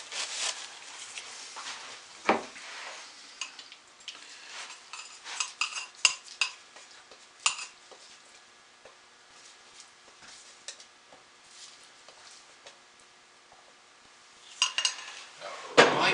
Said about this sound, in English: We'll scrape this excess into another mold